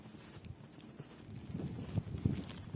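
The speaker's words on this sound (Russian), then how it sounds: "Ветер воет." Wind howls and gusts through a snowstorm in open countryside, a broad, rumbling low rush that swells louder toward the end, with no voices.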